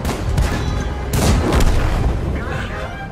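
A tank cannon fires in a tank video game, producing heavy booming blasts in quick succession over a rumbling battle soundscape, loud and close, with some speech mixed in.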